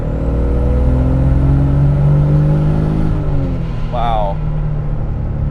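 A twincharged Toyota 1JZ in a Soarer, fitted with a Mercedes supercharger and a T56 gearbox, revs hard under boost, a loud close engine roar rising in pitch while a person exclaims briefly over it.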